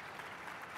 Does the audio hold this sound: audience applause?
yes